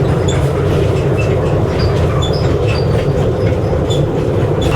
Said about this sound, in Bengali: আমরা কিন্তু এখন পদ্মা সেতুর উপর দিয়ে যাচ্ছি স্কাই ট্রেনে করে